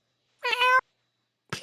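A person imitates a begging cat with one drawn-out, pleading meow, close and clear, then silence before another short voiced sound starts at the end.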